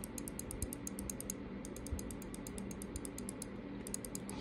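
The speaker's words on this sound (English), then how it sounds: "Again, right click." The right button of a Mira S Ultra computer mouse clicks over and over in quick, regular succession, with faint, crisp, light clicks close up over quiet background hiss.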